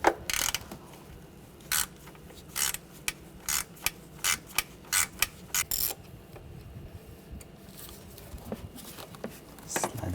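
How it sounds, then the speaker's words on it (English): A ratchet on a T25 socket clicks in short bursts while a bracket is loosened in the engine bay of a 2009-2013 BMW 328i xDrive with a 3.0L inline six, a series of close, sharp ratcheting patters spaced by brief pauses. "Using a T25 socket, take this bracket off."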